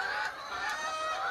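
Hens clucking steadily in a desi poultry farm in Punjab, Pakistan, a continuous layered chorus of many birds close by with no talk over it.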